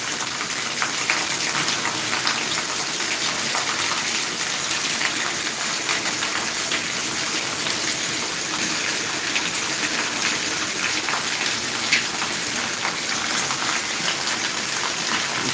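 Heavy rain pouring down steadily in Punjab amid flood conditions, a dense continuous hiss of water with no voices and no breaks.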